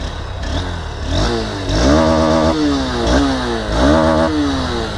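A motorcycle engine revs repeatedly, its exhaust note rising and falling in several loud, rough bursts against a steady idle.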